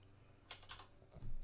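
Quick clicks on a computer keyboard, a short cluster of close, soft keystrokes over quiet room noise, with no speech.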